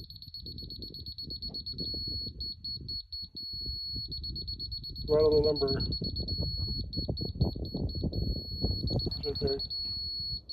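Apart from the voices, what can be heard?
measuring device beeping while leveling a pad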